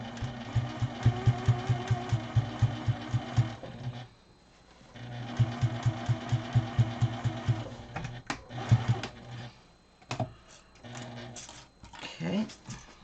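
A Juki 2010Q sewing machine stitches binding onto a dust cover in two runs of rapid, rhythmic needle clatter, pausing in between, with a few handling knocks and brief movement noises afterward.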